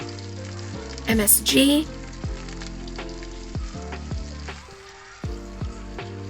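A pan sizzles while soy sauce and seasonings are added, with a loud splashy hiss burst near the start and then steady frying crackle, plus a brief voice speaking.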